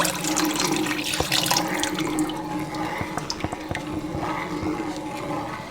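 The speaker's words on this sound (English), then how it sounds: "I am gonna add a little bit more beef broth because I want a lot of gravy" Beef broth pours steadily into a pan of smothered steak gravy, a continuous splashing liquid stream with small drips and clinks, close and fairly loud throughout.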